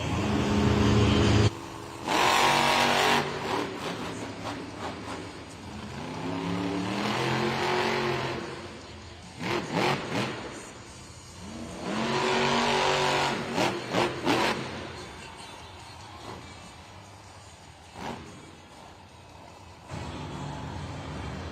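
Sparkle Smash, a Monster Jam truck, revving hard in an indoor arena in Raleigh: repeated loud engine surges and roars rising and falling over about twenty seconds, with crowd and arena noise between bursts.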